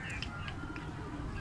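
Pet pigeons cooing near a roof loft as they are released to fly, soft repeated coos over a constant rushing background of wind or traffic.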